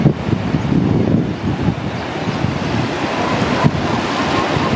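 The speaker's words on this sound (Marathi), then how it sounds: "भरपूर पाण्याचा स्त्राव आहे, फ्लो पण जास्त आहे" Heavy floodwater pouring from the overflowing Ekruk Lake at Hipparga near Solapur, heard from a bridge as a steady, loud rushing roar mixed with wind buffeting the microphone, with no voices.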